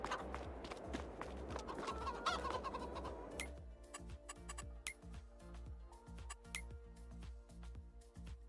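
Chickens clucking in Farming Simulator, a fairly faint mix of busy clucks and bird chatter, followed by a steady run of regular ticking clicks that continues to the end.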